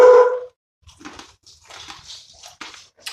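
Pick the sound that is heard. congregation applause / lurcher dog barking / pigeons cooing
lurcher dog barking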